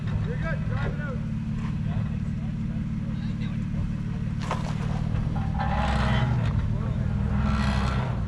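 A Nissan Frontier Pro-4X pickup drives out along an off-road trail at Calabogie Gorge, its engine a steady low drone up close, with people talking over it.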